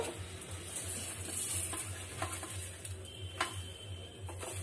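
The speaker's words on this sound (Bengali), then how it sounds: "তেল দিয়ে ভালো করে ভেজে নেব" A semolina paratha fries in mustard oil in a pan, making a soft, continuous sizzle with a few sharp ticks and light utensil taps near the start and end.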